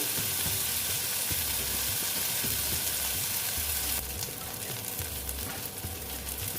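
Ridge gourd frying in a pan gives a continuous, fairly soft sizzle, with occasional stirring scrapes and no talk.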